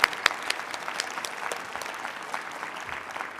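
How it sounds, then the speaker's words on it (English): A conference crowd at an Oregon wine industry event applauds two speakers after a climate change and wine growing talk: a brief, full burst of clapping with a few sharp claps standing out at the start. "A huge round of applause for Dr. Jones, Dr. Poe."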